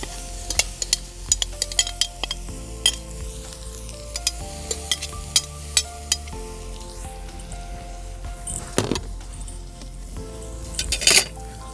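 Grated beetroot, tomato paste, salt, sugar, vinegar and a little water go into a cauldron over an open fire: steady sizzling under repeated scraping stirs and metallic clinks of a spoon against the pot, close and clear.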